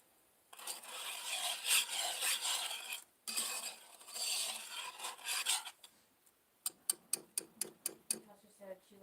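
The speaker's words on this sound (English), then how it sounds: "it's going to scrape until all the sugar melts" A spoon scrapes around a pan of melting sugar for homemade fudge in two long bursts of gritty rasping, then a run of quick, sharp taps on the pan.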